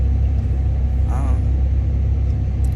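A car stopped at a rest stop in the early morning hours gives off a steady low engine rumble from inside the cabin. The drone is continuous and deep, with a brief faint chirp partway through.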